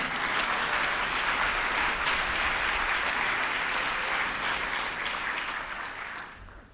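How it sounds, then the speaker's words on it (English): A conference audience at an opening ceremony gives sustained, dense applause that holds steady for several seconds before fading out. "Thank you for the applause."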